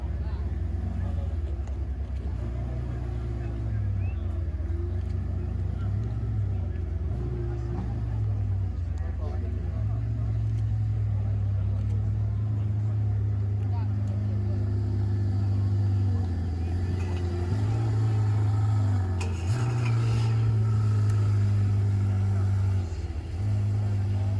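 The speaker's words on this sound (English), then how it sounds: "I thought I'd come over and capture the pair of Ferraris departing." Two Ferraris leave a Goodwood Breakfast Club car show, their engines idling and rumbling nearby with repeated rises and falls in revs, under occasional talk.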